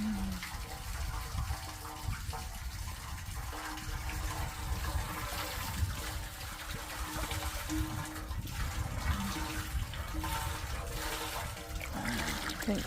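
Steady running water pours through a pipe or drain opening, a continuous rushing and trickling wash that holds at an even level for the whole stretch, close by with no talking.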